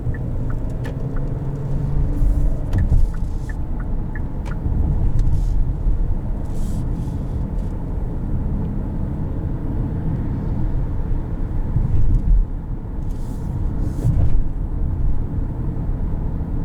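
A 2021 Kia Telluride LX V6 driving over road bumps, heard from inside the cabin as a steady low road rumble with occasional soft thumps and rattles, no voices.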